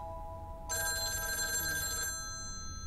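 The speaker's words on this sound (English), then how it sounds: "And there's the phone." A telephone rings in the video game Gone Fishin', one sustained electronic bell-like ring lasting over a second, clear and close against a low steady background hum.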